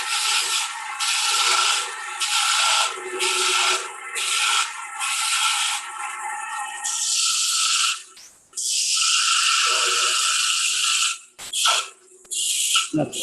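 A turning tool cutting away excess wood stock on a lathe while shaping a bottle stopper at a woodturning demo, a loud close rasping hiss in long continuous passes broken by short pauses and brief lifts of the tool.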